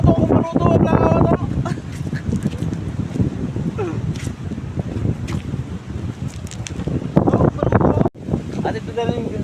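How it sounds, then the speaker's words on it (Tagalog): Strong seaside wind buffets the microphone in a steady, loud roar with gusting rumble, while voices speak intermittently over it near the shore. "medyo malakas yung hangin dito sa amin ngayon"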